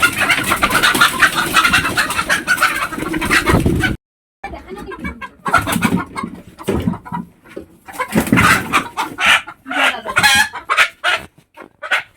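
A laying hen clucks and squawks loudly at close range while being caught, in agitated bursts separated by short pauses, with handling noises around it.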